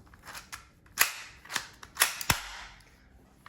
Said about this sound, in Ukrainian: Звук пострілу потужний